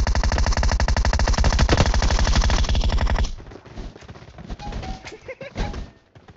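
Rapid automatic gunfire from PUBG Mobile, a loud steady burst of many closely spaced shots for about three seconds, then fading to scattered quieter game sounds and faint thuds.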